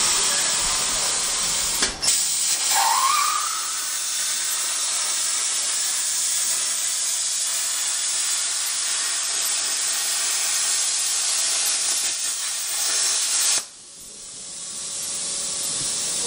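A Lincoln Tomahawk 45 plasma cutter runs at 45 amps and about 110 PSI, slicing half-inch steel plate with weld on it: a steady, loud, harsh hiss that starts abruptly, holds for roughly eleven seconds, then cuts off.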